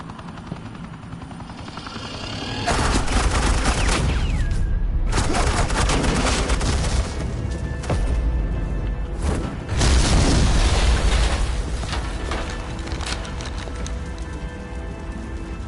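Sustained bursts of automatic gunfire from a Batman video game pour out in loud, dense volleys, with a few short gaps between bursts and a steady background hum.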